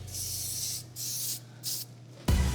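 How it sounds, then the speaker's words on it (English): An aerosol can sprays color onto an ice cream dessert in short, close hissing bursts: three separate sprays with pauses between, followed by a sharp louder clatter at the end. "and then we'll spray paint it"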